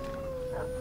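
Drawn-out canine howl from an animal in the Far Cry 3 video game, a steady sustained tone over a dense game soundscape with no talk.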